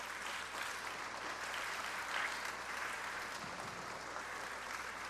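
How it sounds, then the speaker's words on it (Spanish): Steady applause from a church congregation during a faith conference, a dense, even wash of many hands clapping that holds at a constant level throughout, with no speech over it. "denle un aplauso al Señor por eso"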